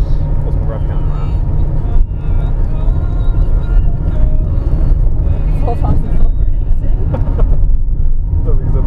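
Nissan Micra engine held in first gear, revving high while climbing a steep mountain pass on the Pamir Highway, a loud steady drone filling the whole stretch with people talking inside the car over it.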